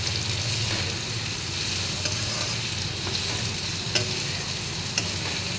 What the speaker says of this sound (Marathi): आपल्या सर्व भाज्या तेलामध्ये छान परतून झालेल्या आहेत